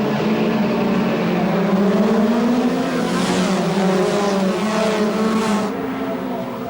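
A race car launching off the starting grid, the engine revving loud and rising in pitch through quick gear changes, with tire noise smearing across the close, continuous roar.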